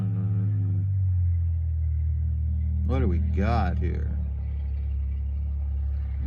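A car with a loud exhaust from a muffler or manifold fault rumbles deep and steady throughout as it passes close by, while someone talks over it.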